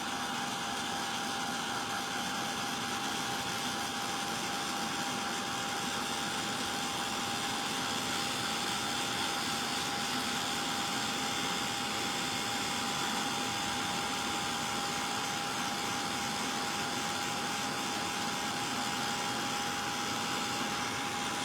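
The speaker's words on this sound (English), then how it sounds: "let me dry that off and we'll have a look" A heat gun blows steadily and loudly, drying paint on a craft cog clock, a constant close whir with a fixed whining tone running the whole time, no voices.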